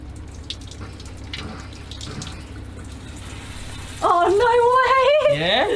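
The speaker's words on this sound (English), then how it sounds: "check to see if we've got hot water in the shower" Shower water heated by a Truma Combi D6 diesel heater in a van runs as a steady background hiss while people talk, then a louder tonal whine rises near the end.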